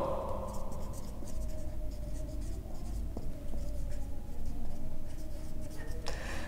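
A pen scratches out numbers by hand on paper for a math assignment, a close, continuous run of short scribbling strokes with brief pauses between them and no voice.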